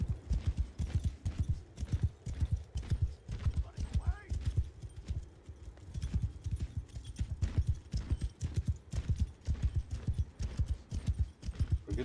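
Horses in the video game Mount & Blade 2: Bannerlord, a steady run of rhythmic hoofbeat clip-clops from many mounts, loud and continuous, with a brief whinny partway through.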